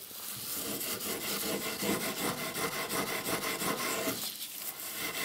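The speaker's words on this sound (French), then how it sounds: "vous pouvez venir donc décaper à l'aide d'une laine d'acier numéro 0" Number 0 steel wool rubbed along the grain of wood to strip away softened finish after a chemical stripper has acted, making a continuous close scratchy rasp in rhythmic back-and-forth strokes, with no speech.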